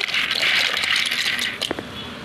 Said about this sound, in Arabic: المكرونه هنا مش هنحط زيت في الميه، هننزل بالمكرونه بالشكل ده كده